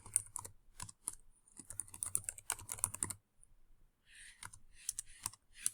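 Typing on a computer keyboard while writing a document in Word, in quick bursts of close, crisp key clicks with a short pause in the middle.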